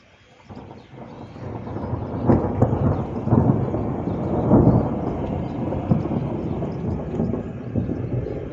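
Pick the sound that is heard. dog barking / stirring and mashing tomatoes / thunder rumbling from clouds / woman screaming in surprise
thunder rumbling from clouds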